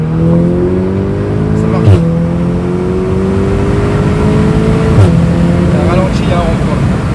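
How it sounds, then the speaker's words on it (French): An Audi S3 engine drones steadily with rising whine as it accelerates hard, a couple of brief thumps, and a voice speaks briefly over the motor. "faire une petite accel"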